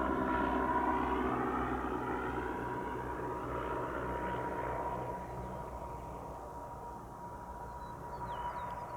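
A general aviation aircraft's engine drones at Spirit of St. Louis Airport, loud and steady at first, then easing slightly as it moves off, with no voices.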